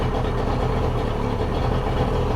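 Outboard boat motor idling, a steady close engine hum with an even low throb and no talking.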